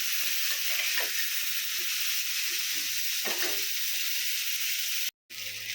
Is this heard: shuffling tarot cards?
no